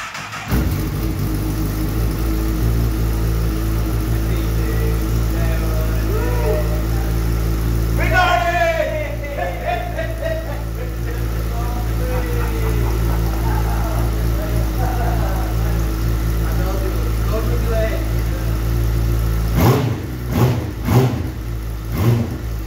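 An engine runs throughout at a steady, loud idle with a strong low drone, briefly rising around the middle and then dropping away near the end, while people talk over it intermittently.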